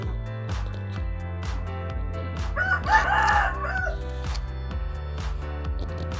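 A rooster crows once amid steady background music, the call rising briefly above a constant musical bed.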